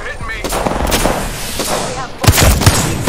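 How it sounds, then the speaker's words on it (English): Apex Legends enemy gunfire snaps in quick, close shots, scattered at first and then clustered in a sharp burst near the end, with a voice talking over the firing. "The enemies are shooting at me."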